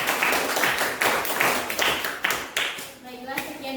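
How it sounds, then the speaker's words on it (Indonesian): An Indonesian audience claps for the first performers, a thin scattering of hand claps with uneven rhythm close by, while a voice talks over them. "Silakan kita kasih aplaus untuk yang tampil lebih dahulu"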